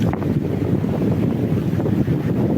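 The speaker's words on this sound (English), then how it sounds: "It's windier this weekend for sure" Strong wind blowing at the ocean off the Yucatán coast, a continuous rough buffeting roar against the microphone with faint surf beneath it.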